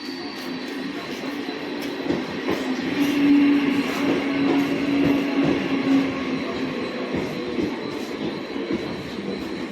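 A train rumbles steadily through a railway station, with a faint metallic squeal and rolling wheel noise that swells midway and then holds at a moderate level.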